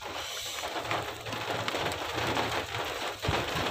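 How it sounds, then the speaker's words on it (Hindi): Heavy rain pours steadily onto a car during a family outing, a continuous dense hiss of drops drumming on the roof and body with occasional heavier splatters, close and unbroken throughout. "इतनी ज़्यादा बारिश हो रही है, गाड़ी के ऊपर भी आ रही है बारिश"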